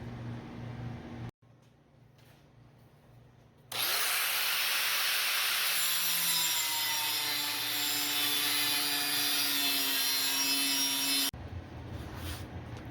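A power tool cuts corner pieces out of metal tubing, starting with a loud sustained grinding whine that runs for several seconds, then stops abruptly, with quieter handling noise before and after.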